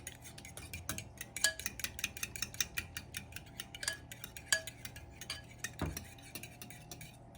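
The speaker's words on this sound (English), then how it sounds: "mix that all together" A utensil stirs batter in a bowl with vanilla added, giving a quick, steady run of close clinks and taps against the bowl's sides, with soft swishing between strikes.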